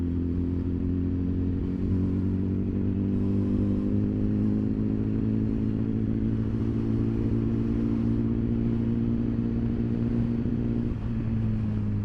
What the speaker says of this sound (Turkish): Ama bu sesli bir motor.